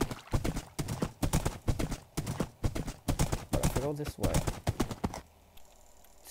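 Horse hooves clip-clop in a Minecraft world in an irregular, steady patter while someone talks over them almost throughout, stopping near the end.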